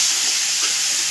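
Rohu fish pieces soaked in turmeric frying in hot oil, a loud, dense, continuous close-up sizzle and hiss with no pauses.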